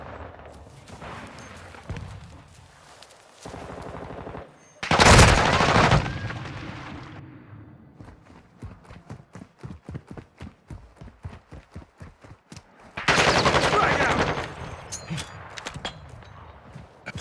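Video game gunfire in a squad shooter, bursts of rapid shots and loud blasts between bright grenade-like explosions, rattling in quick rhythmic volleys near and loud.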